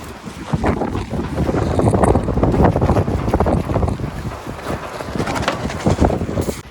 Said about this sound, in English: This wind is killer.